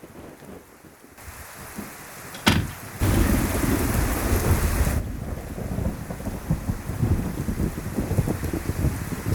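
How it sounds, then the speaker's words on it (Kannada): A heavy rainstorm, with a sharp thunderclap cracking out and then dense, loud rain pouring steadily all around. "ಎಷ್ಟೊಂದು ಮಳೆ ಬರ್ತಾ ಇದೆ."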